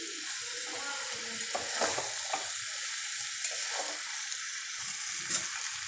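Potatoes frying in a pan for a vegetarian aloo dum, with a steady close sizzle and scattered scraping stir strokes throughout, no voices.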